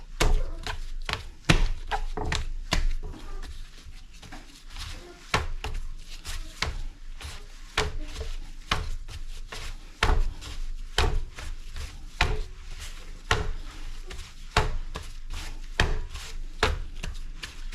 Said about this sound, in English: we'll just continue to knead until it's